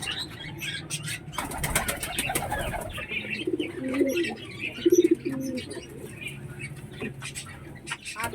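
A pet female pigeon coos softly indoors, with bursts of wing flapping and fluttering early on and faint chirps around, close by and moderately loud.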